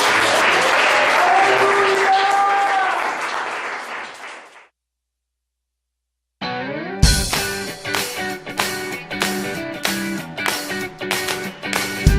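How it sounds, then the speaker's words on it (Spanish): A church congregation bursts into joyful applause, a dense, loud wash of clapping that fades out after a few seconds, followed by silence and then music starting up. "Iglesia, levanten un aplauso de júbilo"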